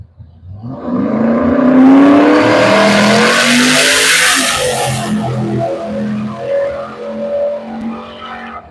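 A Corvette and a small-block Ford Fairlane launch side by side at a drag strip, engines roaring loud as they accelerate hard through rising gear changes, then fading into lower, uneven rumbles as they slow.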